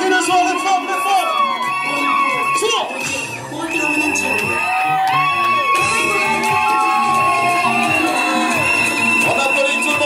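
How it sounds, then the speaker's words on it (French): Women at a Gabonese customary wedding ululate and shout cries of joy, loud sustained warbling whoops rising and falling over a dense cheering crowd for the whole stretch. "Les femmes poussent les cris de joie,"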